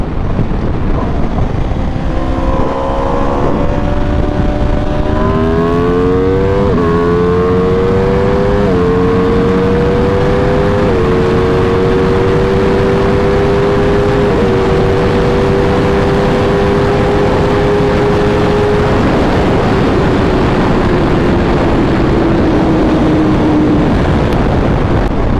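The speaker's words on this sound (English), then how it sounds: "I need to open the bike up at least once" A motorcycle opened up on a straightaway, its engine note climbing in stepped pitch rises through the gears, loud and steady under heavy wind rush, then easing off near the end.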